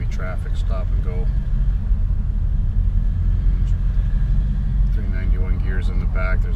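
A steady low exhaust rumble from a Camaro SS with Flowmaster exhaust, a 3200 Circle D stall converter and 3.91 gears crawls through stop-and-go traffic, with a voice speaking at the start and again near the end.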